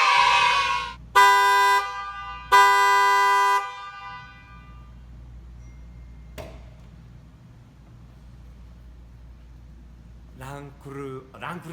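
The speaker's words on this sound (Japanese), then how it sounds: "ランドローバーディフェンダーっぽいクラクションかな。" Two long, steady blasts of a car horn, in the style of a Land Rover Defender, sound close and loud one after the other, followed by a quieter tick and then a person speaking.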